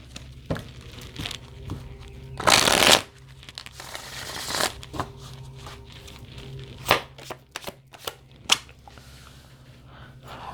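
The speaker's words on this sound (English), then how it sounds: "this is my Wounded Warriors deck." A tarot deck is shuffled by hand, one loud riffling burst of cards followed by scattered lighter taps and card clicks, close-up, with no voices.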